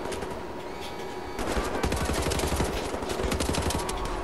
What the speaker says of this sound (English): And you're shooting through the wall at me.